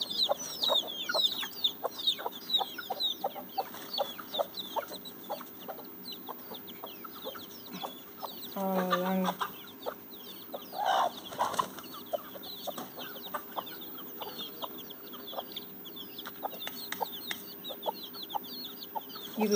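A country hen clucks steadily while her first brood of small chicks peep in quick, high chirps throughout, with occasional louder fowl calls in the middle, in a grove.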